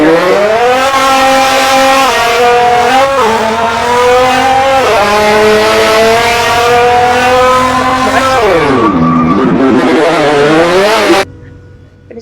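A Nissan GTR engine roars at high revs during a donut in the driving game Car Driving Ultimate, its loud sustained tone wavering and dipping before cutting off abruptly near the end.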